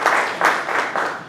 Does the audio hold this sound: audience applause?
yes